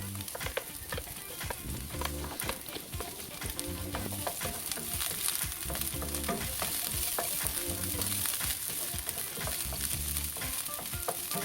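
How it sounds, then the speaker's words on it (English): Onions and garlic sauté in oil in a pan for budget fried rice, giving a steady, dense sizzle with repeated scraping stir strokes throughout, close and fairly loud with no talking. "And now let's saute the onions and garlic."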